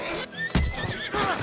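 A horse in the video game Red Dead Redemption lets out a loud, close whinny with a sharp onset and a wavering, descending neigh over a brief burst of hoof and movement noise.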